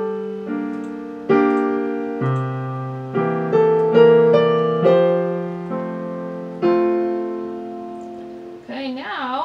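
Piano plays three measures of a jazz-style piece, with sustained chords struck one after another and left to ring out, then a voice begins speaking as the playing ends.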